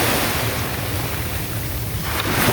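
Sea waves washing onto a beach, heard as a loud, steady roar of surf mixed with wind buffeting the microphone, with no speech.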